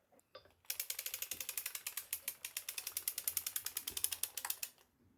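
The stitch dial on a circular sock knitting machine is turned, producing a rapid run of small, crisp ratcheting clicks close to the listener that continue for about four seconds.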